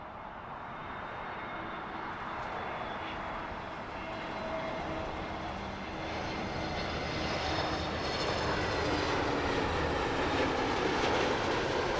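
Speedbird 811 airliner landing on Heathrow runway 09 left, a continuous broadband engine roar that slowly swells louder over the whole stretch, no voices.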